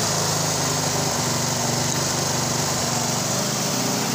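A TVS Apache 160 motorcycle engine runs steadily after a wiring repair, giving a continuous buzzing drone at even loudness with no talk over it.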